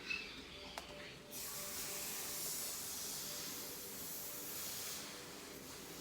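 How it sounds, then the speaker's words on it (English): Handheld steamer hissing steadily as it steams the last section of small faux locs hair, a loud continuous spray of steam after a brief click at the start. "we're going to steam this one last part"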